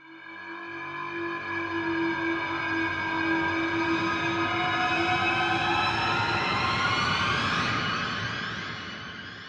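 A cinematic orchestral hit from a sample library swells and sustains as one long, dense brass-and-string chord with a rising, sweeping tail, loud and alone before fading out.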